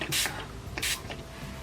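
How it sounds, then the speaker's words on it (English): Two quick hissing bursts of a spray bottle, close up, separated by a short pause against a quiet background. "Once you have the product, you just spray a little bit"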